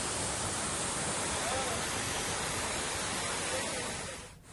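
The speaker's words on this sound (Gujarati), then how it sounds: "હવે આ કચ્છના પાલરધુના ધોધને તમે જોઈ શકો છો, એ જીવંત બન્યો છે।" The monsoon-fed Palardhuna waterfall in Kutch pours in a dense, steady roar of rushing water that holds constant before dipping briefly at the end.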